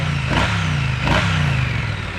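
Engine of a 2017 Triumph Bonneville T100 Black motorcycle, with about 9,000 km on it, idling close by and blipped twice in quick revs that rise and fall fast before settling back to a smooth idle.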